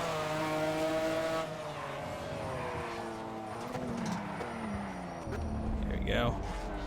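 Honda NSX sports car racing in Project CARS, its engine whine climbing and falling through shifts beside other cars, with tire squeal and steady commentary talk running over it.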